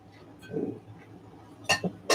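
Thrifted Murano glass pieces clink together in a few sharp, bright taps near the end, preceded by soft handling sounds; close and moderately loud, no talk.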